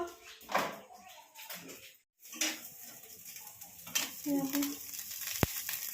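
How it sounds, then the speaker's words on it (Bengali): Pond prawns frying in a home kitchen pan, sputtering unevenly with stirring, a brief pause, then clinks of utensils and a sharp knock near the end. "মা কি ভাজছে একটু দেখে আসি"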